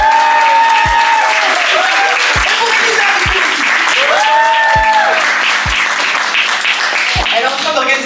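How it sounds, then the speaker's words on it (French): Sustained applause from a sizable conference audience, dense clapping that fills the whole stretch, with voices and music-like tones mixed in underneath. "on applaudit pour Jo."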